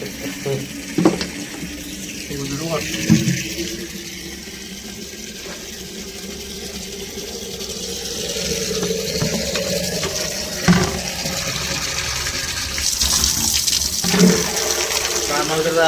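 Water runs steadily from a tap, filling a container with a rushing splash that grows louder. Occasional knocks and clatter sound nearby.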